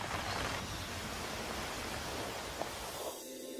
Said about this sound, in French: les premières gouttes d'eau se transforment vite en pluie torrentielle